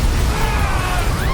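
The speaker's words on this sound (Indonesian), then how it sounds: "tak lama kemudian kabin itu meledak dan terbakar" Cabin blowing up and burning in the film Tucker & Dale vs Evil, a loud sustained roaring rumble of blast and fire with crackling noise throughout.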